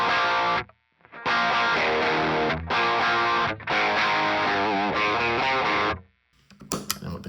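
Electric guitar played through a Mooer Blues Crab overdrive pedal with the gain cranked, giving loud, saturated distorted chords and phrases in several sustained bursts separated by brief pauses, ending with softer picking.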